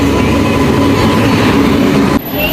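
A train rolls into a railway station platform, a steady loud rumble of wheels and carriage noise filling the air before it cuts off abruptly near the end.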